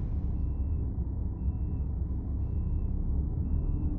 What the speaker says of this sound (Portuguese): Mas é de uns sons de motor de ônibus mais gostoso que tem, cara.